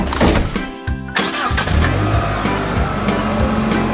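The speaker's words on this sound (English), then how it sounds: "Black police car." A police car engine cranks and catches, then settles into a steady mid-pitched idle with light revving, loud and close.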